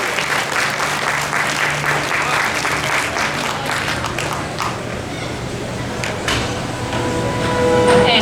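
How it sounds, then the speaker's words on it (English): Costume contest audience at Fall Kraken Con 2016 applauding the ribbon winners, a steady wash of clapping from a crowd that fades slightly midway and swells again near the end. "if you can give a full round of applause for our ribbon winners"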